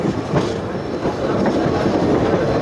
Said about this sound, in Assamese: চাওক ট্ৰেইনখন কেনেকৈ টাৰ্ণ লৈছে